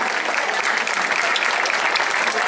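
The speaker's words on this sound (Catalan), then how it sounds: "Un altre aplaudiment." Steady, loud applause from a crowd for a group of camaraes performers in Sant Jaume d'Enveja, a dense wash of clapping sustained throughout without a break.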